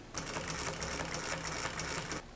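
A Consew sewing machine driven by a brushless servo motor stitches in one continuous run of about two seconds, a rapid, even mechanical chatter heard close and alone before it stops.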